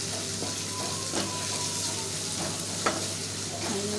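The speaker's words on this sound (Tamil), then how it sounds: "வெங்காயம் நல்லா செவக்க ஊற்றி அதில் கொஞ்சம் உப்பு போடணும்." Onions frying in oil with salt give a steady sizzle in a pan, with occasional light stirring clicks and no voices.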